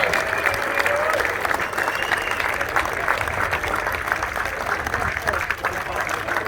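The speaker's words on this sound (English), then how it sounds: "I think we can cheer louder than that for Adam" Youth football academy presentation day crowd cheering and applauding, a dense, continuous roar of clapping and voices filling the room at steady loudness, with a faint voice carrying over it.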